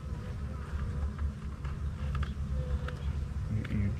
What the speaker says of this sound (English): You're dragging bees everywhere.